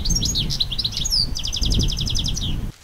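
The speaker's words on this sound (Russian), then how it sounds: "Птички поют." Small birds chirp and trill outdoors in spring among trees coming into leaf, a busy run of bright repeated tweets and a rhythmic rapid trill, close and clear over low outdoor rumble, cutting off near the end.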